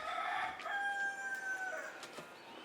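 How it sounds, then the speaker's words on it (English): A rooster crows in a long drawn-out call, with other chickens faintly clucking in the background. "Chickens."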